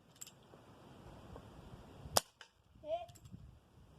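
An air pistol fired at a target outdoors gives a single sharp, close crack, with a faint voice-like sound shortly after over quiet background.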